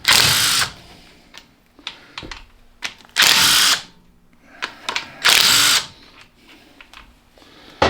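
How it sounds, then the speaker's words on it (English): Power tool spinning out oil pan bolts on a Cub Cadet 582 engine, several loud whirring bursts with short gaps and clicks between them, close up and without speech. "Let's get these bolts out of here and see if we can get this pan off."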